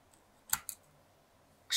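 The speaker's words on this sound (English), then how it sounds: "X-Acto knives, and what you want to do is go ahead and cut those off" An X-Acto knife slicing through pamphlet pages makes two short, crisp snips close together, then after a pause a brief louder scraping cut, all close and with no speech.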